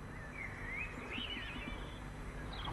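Bulbuls singing in a garden during autumn, a thin wavering whistled song line with short rising and falling phrases over a steady background hum, moderately faint and without talk.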